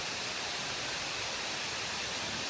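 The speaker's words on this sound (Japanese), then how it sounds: "結構落差があるので滝から離れていても水しぶきがすごく飛んできます。" Waterfall at Takachiho heard from a boat below it, a steady dense rush of falling water with spray, continuous and fairly close throughout.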